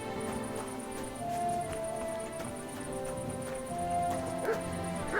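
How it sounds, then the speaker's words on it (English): A dog barks in the medieval video game Kingdom Come: Deliverance 2 near a blacksmith's, with a few short yips and whimpers over a busy game soundscape with hoof clip-clops and a faint repeating high tone. "Why are you barking?"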